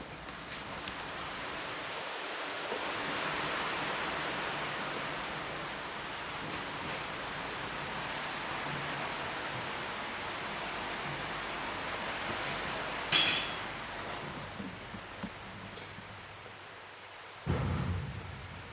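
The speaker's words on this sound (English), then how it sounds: "Pretty nice to listen to the rain." Steady hiss of rain drumming on a tin shed roof, continuous and even, with a couple of sharp knocks or clanks near the end.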